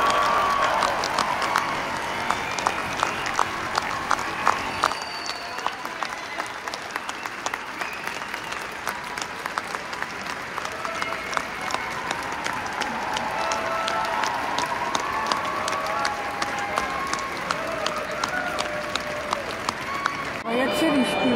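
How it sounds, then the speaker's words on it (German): Big outdoor crowd applause at the end of a large Michael Jackson Thriller zombie flashmob in Hamburg, a steady wash of clapping heard from a distance with a few cheers and voices mixed in throughout. "Belohnt wurden wir am Schluss mit einem großen Applaus."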